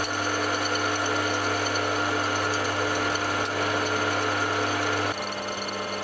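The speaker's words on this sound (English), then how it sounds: "I'm using a slitting saw to cut a slot down the centre of the drill bed." A steady mechanical whine and grinding hum of a slitting saw on a milling machine cutting a slot in metal, loud and continuous, shifting pitch slightly near the end.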